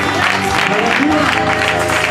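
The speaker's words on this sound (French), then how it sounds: "Est-ce que vous pouvez avoir donné une main d'acclamation?" Brief burst of a church seminar crowd clapping and cheering mixed with voices, loud and continuous for a couple of seconds.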